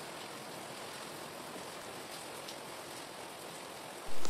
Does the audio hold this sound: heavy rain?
yes